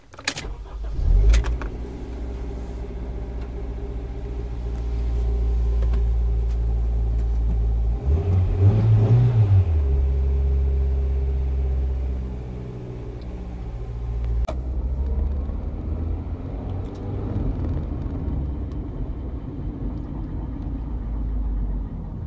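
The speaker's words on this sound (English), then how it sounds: "Exhaust rattle." A truck with a 3D-printed replacement part rumbles along on a test drive, its engine droning steadily with a louder surge midway and a faint exhaust rattle mixed into the road noise; no talking.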